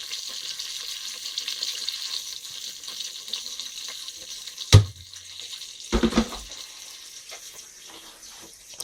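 Cumin seeds fry in a hot pan with a continuous soft sizzle, broken by two sharp clattering bursts close by.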